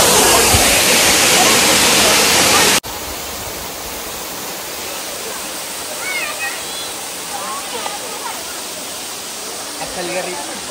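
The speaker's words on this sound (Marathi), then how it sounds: "इथे एवढा मोठा धबधबा चालू आहे" A large monsoon waterfall roars as a loud, dense rush for the first few seconds, then drops to a softer, steady distant water wash with faint bird calls scattered over it.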